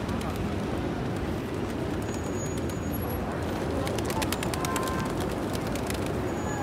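Pigeons coo steadily among a dense, continuous wash of crowd noise and voices at the pigeon square near the Mecca Clock Royal Tower, the birds' calls blending into the busy open-air din.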